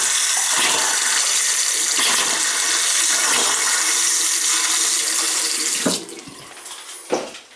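Water gushes steadily from taps and fixtures in a summer home being brought back into use after a winter shutoff, a loud continuous rush that cuts off near the end, followed by a brief splash.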